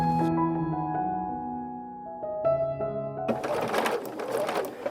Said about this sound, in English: I'm going to start off the seam, and then I'm going to lock a stitch at the point there